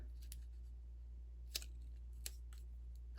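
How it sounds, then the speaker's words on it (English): Scissors make two or three quick, crisp snips through a paper sprig piece for a paper craft project, close and clear over a steady low hum. "I'm going to cut off this piece in the middle."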